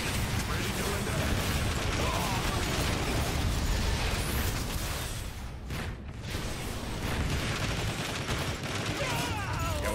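Dense, rapid gunfire and bursting impacts from a Transformers: War for Cybertron battle as sentry turrets are destroyed, continuous and loud across the whole stretch with a brief dip midway.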